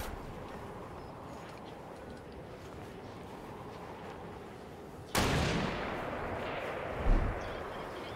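A single sharp sniper shot in Fortnite cracks out of quiet background ambience, followed by a trailing echo and a second duller thump a couple of seconds later.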